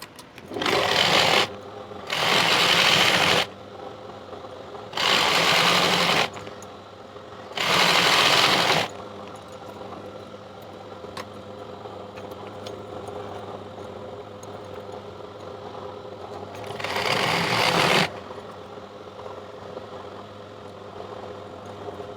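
A sewing machine stitches ladies' pant fabric in five loud bursts of one to two seconds each, separated by quiet gaps with low background hum and no talking.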